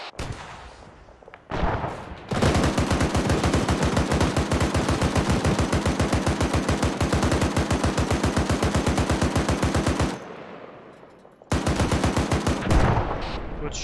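Sustained automatic gunfire in Arma 3 during a counterinsurgency convoy ambush: a long, loud, rapid stream of shots with brief pauses, then another burst, no talking.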